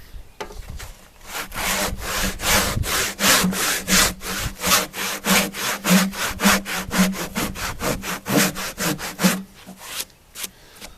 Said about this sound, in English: we're going to kerf that down a little more